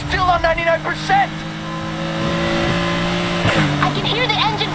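A car engine strains and revs in the racing video game Need for Speed Heat, droning steadily with a rising pitch under radio chatter and speech.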